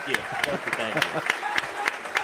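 An audience at a live show at Valencia's Tex-Mex Garage gives a round of applause, heard as sharp, fairly regular claps. Someone speaks briefly over the clapping.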